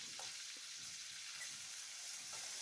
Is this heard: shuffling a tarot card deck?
no